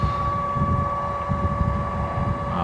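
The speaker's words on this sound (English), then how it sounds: "I don't know if you can hear the motor" An electric motor drives a sailboat on the water at a little over 3 knots, giving a steady faint whine that sits over continuous low wash and wind rumble.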